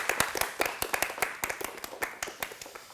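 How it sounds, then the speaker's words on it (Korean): Audience clapping welcomes a panelist onto the stage at a Korean ICT talk event, a steady patter of many hands with sharp individual claps, moderately loud and without voices. "큰 박수로 맞이해주시면 고맙겠습니다"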